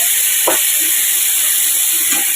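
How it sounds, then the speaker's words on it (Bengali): Potatoes, yardlong beans and tender seedless pointed gourd fry lightly in a pan with a loud, steady hiss, broken by a couple of faint clinks, with no talking. "এর মধ্যে আলু বরবটি আর পটল আছে কচি পটল বীজ নেই হালকা ভাজা হবে"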